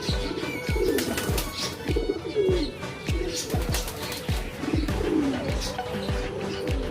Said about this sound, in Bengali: এখানে হচ্ছে কবুতর ও ভ্যারাইটিস কবুতর